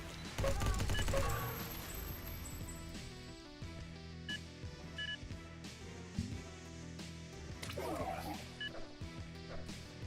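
Rapid automatic weapon fire from the first-person shooter Xonotic on a small arena map, a loud burst opening the stretch and then steady repeated shots and game effects continuing throughout.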